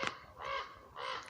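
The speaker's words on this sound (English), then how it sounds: "The Raven's saying yes too." Raven caws outdoors at United Nations Plaza in San Francisco: one short harsh call, then two longer hoarse caws at a moderate distance.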